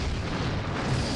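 Quantum torpedoes fire during a Star Trek starship battle video game pitting two Excelsior-class ships against each other, a dense, steady booming blast of weapon fire with low rumble throughout.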